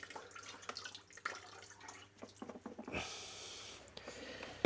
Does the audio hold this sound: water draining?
yes